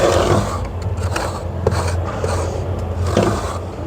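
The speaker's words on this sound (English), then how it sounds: "we can use a flat trowel to come through and shave a little bit more" A flat trowel shaves packed mud on a shower pan near the drain's bonding flange, making a continuous, close, loud gritty scrape with a few rougher strokes, and no voices.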